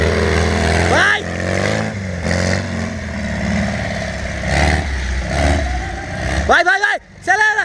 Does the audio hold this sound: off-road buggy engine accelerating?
yes